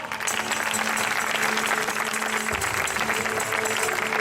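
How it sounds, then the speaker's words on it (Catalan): Concert audience applauds a guitarist and singer, continuous clapping with instrumental tones sounding underneath. "guitarra, veu, un aplaudiment per a Pau!"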